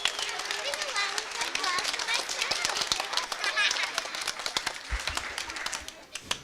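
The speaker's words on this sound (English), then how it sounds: "One more round of applause" Audience applause at an elementary school first grade concert, a steady patter of clapping hands filling the room with children's voices and chatter mixed in, fading near the end.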